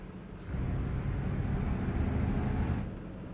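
Heavy truck in Euro Truck Simulator 2 reversing out onto a road, a steady low engine drone with an air brake hiss and a faint high reverse tone running through, swelling after a moment and easing off near the end.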